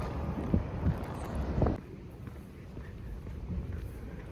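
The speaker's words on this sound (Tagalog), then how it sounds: "Mahangin ngayon." Wind buffets a microphone in low rumbling gusts, strong for a couple of seconds, then easing into a softer steady rush.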